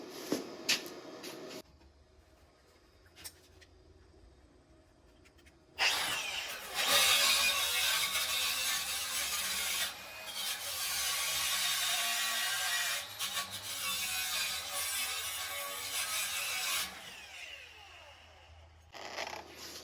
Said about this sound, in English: Let me hit this with my wire wheel.